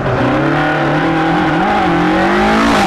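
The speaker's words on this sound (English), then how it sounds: "Johnny Morrow raises the dust in his Toyota Corolla in 14th place" A Toyota Corolla rally car drives a dusty rally stage near a hairpin, its engine loud and close with rising and falling revs through gear changes, heard alone for a few seconds.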